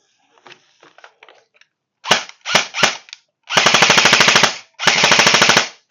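A Golden Eagle M4A1 electric airsoft rifle running on its stock battery: a few light handling clicks, then three short bursts followed by two longer rapid-fire strings, loud and close with a buzzing mechanical rattle.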